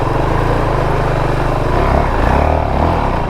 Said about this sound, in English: Now this is where I'll feather the clutch a bit.